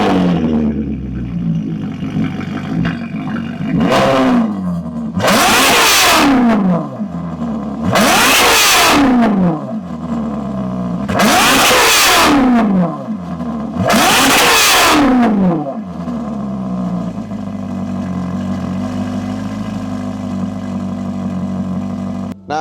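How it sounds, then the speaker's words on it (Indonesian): A Ferrari exhaust is revved hard during a decibel meter test, five loud rising roars separated by short drops back to a rumbling idle, close and forceful. "kita udah melakukan pengetesan ya pakai dB meter, suara knalpotnya seperti apa, besarnya seperti apa"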